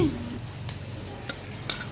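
Pieces of pork fry in a pan with a steady close sizzle, broken by a few sharp crackles and spoon scrapes, with no talking.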